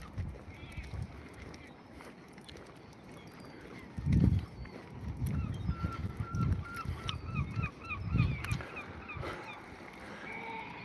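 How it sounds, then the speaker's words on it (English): A flock of geese-like birds honk by the sea on a seaside promenade, scattered calls rising in the middle distance over wind and faint background noise, with people talking now and then. "I love the birds."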